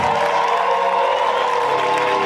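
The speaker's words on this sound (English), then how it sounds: "give them a round of applause" An audience claps and cheers for a band at a live show, a dense, steady wash of applause and crowd noise that holds at full loudness throughout.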